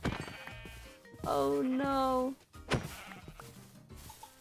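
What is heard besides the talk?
sheep bleating in Minecraft video game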